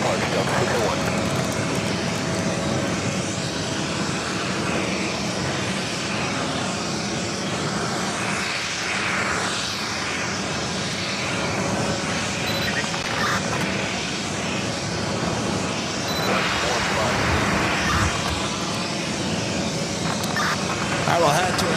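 A jet airliner rolls for takeoff on runway 4 Left at JFK, a steady broad engine roar sustained throughout at moderate distance, with a voice talking over it.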